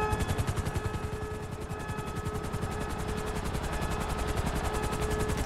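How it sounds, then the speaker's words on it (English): Helicopter arriving in the video game GTA V, a loud steady rotor chop with rapid rhythmic blade thumps that holds throughout, with dense mechanical noise underneath. "Helicopter inbound."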